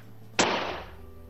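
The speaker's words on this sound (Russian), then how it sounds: "Вы слышите на улице грубый звук выстрела?" A single sharp gunshot cracks outside, loud and sudden, and a short decaying echo follows over quiet room tone.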